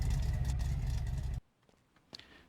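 A shop truck's engine rumbles steadily up close while reversing in a garage, then cuts off abruptly, leaving near silence with a couple of faint clicks.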